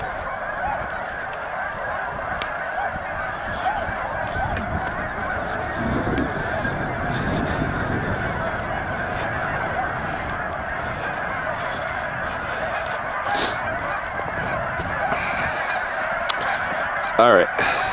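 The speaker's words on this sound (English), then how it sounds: "Now the swans are making noise." Swans honk continuously throughout, with overlapping nasal calls from a flock at moderate distance and a few louder, nearer honks toward the end.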